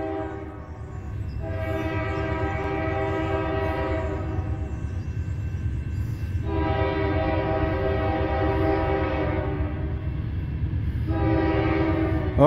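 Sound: Northbound NS 200 intermodal freight train passing

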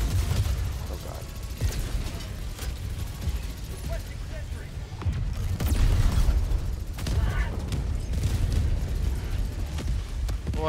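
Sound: explosions in the video game Helldivers 2

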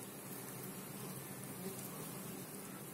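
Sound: honeybees buzzing

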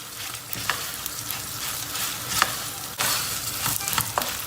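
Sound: frying tomato paste with vermicelli in a pot

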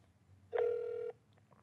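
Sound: phone dialing a call center

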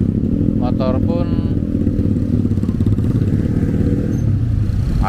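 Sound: motorcycles in congested city traffic

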